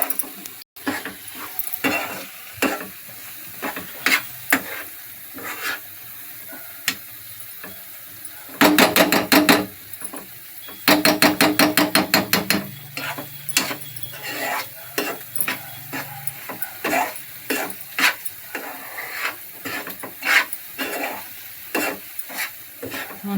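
Coconut and jaggery mixture stirred in a pan, with repeated scraping strokes of a spatula against the metal over a faint sizzle, including two bursts of rapid back-and-forth stirring partway through, close and clear with no talking.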